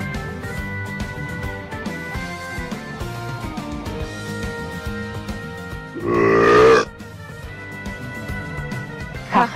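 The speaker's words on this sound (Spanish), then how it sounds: "ustedes no van a empezar un concurso de eructos" A cartoon character lets out a single loud, gurgling burp partway through, rising abruptly over a bed of background music and fading quickly.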